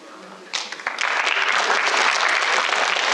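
Applause from an audience swells abruptly after a quieter opening, a few sharp claps breaking in before full, dense clapping takes over and holds loud and steady to the end.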